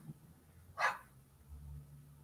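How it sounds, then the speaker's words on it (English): A single short dog bark sounds at a moderate distance over a quiet room background, with no one talking. "What is that dog barking at?"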